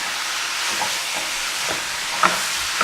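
Ground beef for spinach lasagna browns in a hot pan with a steady, fairly loud sizzle and hiss, broken by a few soft scrapes and clicks of a utensil stirring and breaking up the meat.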